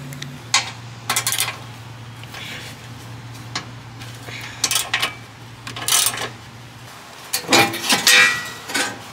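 Metal bolts being loosened and removed from the rusted heat shield of a Honda Acty mini truck, a series of sharp metallic clinks and ratchety taps spaced irregularly, with a steady low hum underneath and a louder clatter near the end.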